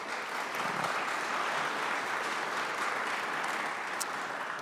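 Sustained applause from an audience at a legislative presentation for veterans' organizations, steady and moderately loud with no voices over it.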